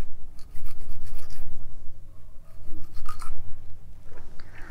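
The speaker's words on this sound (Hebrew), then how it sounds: "ועם המברשת ניילון שוב פעם אני מתחיל להיכנס פה באזור ההדק" A nylon brush scrubs around the trigger area of a pistol during cleaning, giving close, steady rasping strokes that repeat in quick bursts.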